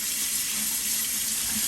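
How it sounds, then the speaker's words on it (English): Potatoes being washed under a running kitchen tap, with a steady loud gush of water over the sink that holds constant throughout, with no talking. "Okay, now you're going to wash your potatoes."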